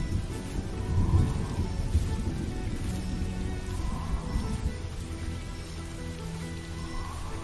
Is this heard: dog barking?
no